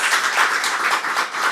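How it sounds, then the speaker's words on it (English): A studio audience breaks into a continuous round of applause, many hands clapping loud and close in a dense, even roar that carries unbroken from start to finish without voices. "Please give yourselves another round of applause."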